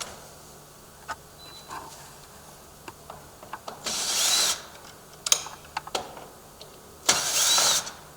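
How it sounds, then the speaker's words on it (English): A power drill bores holes in a metal door riser bar during a replacement door installation, two sustained whirring bursts separated by scattered clicks and handling knocks, close and fairly quiet, with no talking. "We want to drill 1, 2, 3 holes in the riser bar."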